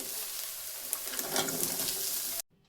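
Chopped onions sizzle and fry steadily in a hot pan with oil, a continuous close crackling hiss with a few small pops, cutting off abruptly near the end.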